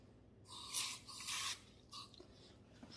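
Water poured in short splashy bursts into a rock tumbler barrel partly filled with obsidian rough, with two or three quick close pours and brief pauses between.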